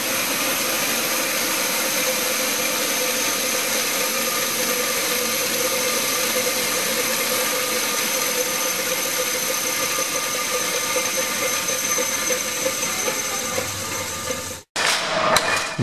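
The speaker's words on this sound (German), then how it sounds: "An dieser Maschine wurden dann die einzelnen Fäden auf solche Spulen gewickelt." A thread winding machine in a textile factory winds threads onto spools, giving a steady mechanical whir and hum that continues evenly before cutting off abruptly near the end.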